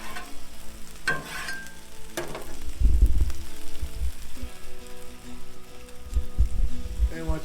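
Chopped vegetables coated in butter sizzle on a Blackstone griddle for chicken fried rice, a continuous crackling fry with metal spatula scrapes and stirring knocks close by, getting louder in bursts as the food is turned.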